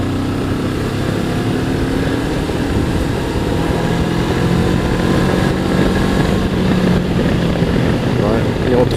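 A Honda CB500X parallel-twin motorcycle accelerates in fourth gear on the way out of town, giving a loud, continuous engine drone that rises gradually, mixed with steady wind noise.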